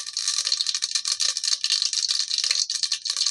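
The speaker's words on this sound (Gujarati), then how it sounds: "જો આપણી રાઈને જીરું ફૂટવા મળ્યું છે" Mustard seeds and cumin crackle and pop in hot oil, a dense bright spluttering heard close and alone, with no voices.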